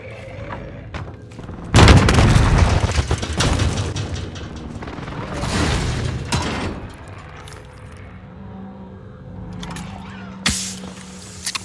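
Heavy airstrike explosions from a precision strike in Call of Duty Warzone, one loud deep boom followed by rolling blasts, with a couple of smaller impacts later and no talk.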